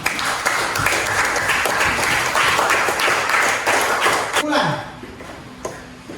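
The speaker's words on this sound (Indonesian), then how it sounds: "Beri tepuk tangan untuk kita semua." A classroom of students claps together in a loud, dense burst for about four and a half seconds, then the clapping quickly dies away to a few scattered claps.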